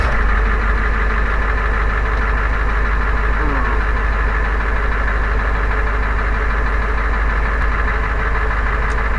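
A Ford 7.3 IDI diesel engine with a suspected fuel supply fault runs loud and close after a stall and restart, holding a steady, rough knocking idle throughout.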